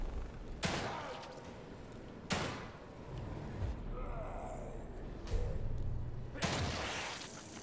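Gunshots in The Evil Within 2 ring out as four sharp, separated blasts spread over several seconds, each with a short echoing tail over a low, murky game ambience.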